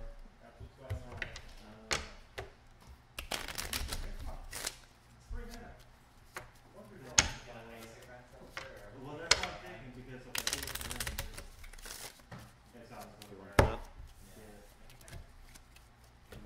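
Playing cards from an Arctic Scavengers game being shuffled on a tabletop, heard as a series of quick riffles and snapping bursts mixed with soft clacks, while players talk casually throughout.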